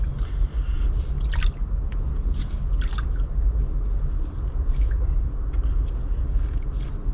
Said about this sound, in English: I'm actually rinsing this stuff at the moment and squeezing it out really dry